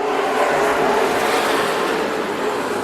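Race cars run side by side through turns one and two at Redwood Acres Raceway, a dense continuous engine roar with broadband rush, loud and sustained throughout.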